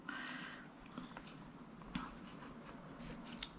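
Pen writing notes into a paper planner, soft continuous scratching strokes with a few small taps, faint and close, no talking.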